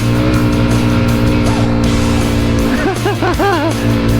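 A Junak RX 1 motorcycle carrying two riders strains uphill in first gear at about 7000 rpm, a loud sustained whine close by, with short rising and falling pitch wobbles as it climbs.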